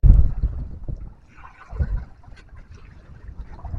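A small tourist boat sets out on the water at Mukutmanipur in fine weather, low rumbling wind and water noise with some knocking and handling sounds near the start, the boat motion continuing steadily and faint throughout.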